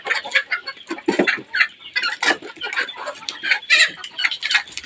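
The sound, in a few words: roosters and hens clucking at poultry farm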